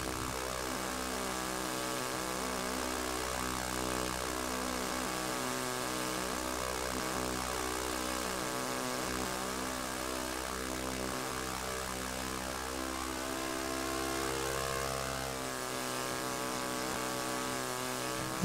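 Twin engines of a B-25 Mitchell bomber in an RC flight sim drone steadily and loudly, a buzzing propeller-like hum with wavering pitch that swells and dips throughout, alone with no voices.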